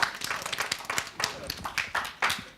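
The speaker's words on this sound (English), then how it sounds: "Let's give him a round of applause for that, yeah?" A small audience gives a round of applause at an evening event, with scattered, uneven claps coming in rhythmic bursts while a voice talks over them.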